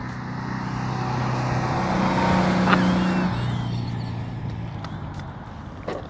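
A 1959 Volkswagen Beetle in third gear, its engine rising in a moderate, steady drone that swells mid-way and then eases, heard from a moderate distance without talk.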